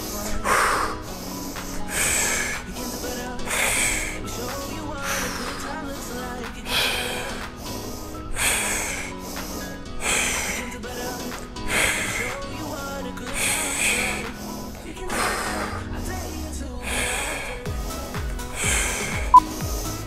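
Forceful breaths in and out during a dumbbell workout, about a dozen rhythmic hissing exhales and sharp inhales spaced evenly over a steady background, with a coach's voice counting between them.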